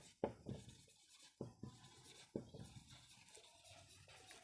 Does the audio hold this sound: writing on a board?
yes